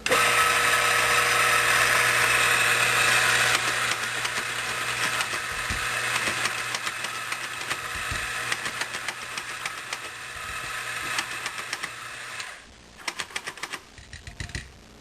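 A coffee grinder whirs loudly and steadily for about twelve seconds while grinding an espresso dose into the portafilter basket of a Rancilio Silvia setup, then cuts off into a few light taps and clicks.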